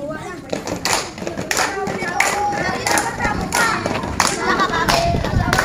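A group of scout children clap hands in rhythm while singing a Malay action song, the sharp claps recurring about once a second under the loud, continuous sung voices.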